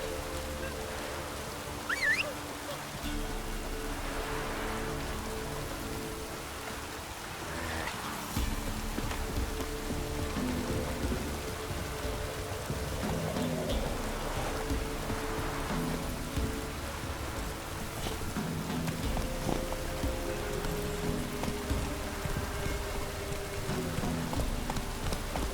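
Steady rain falls across a scene in The Witcher 3, a dense, continuous hiss that stays fairly even for the whole stretch, with faint low rumbles and no speech.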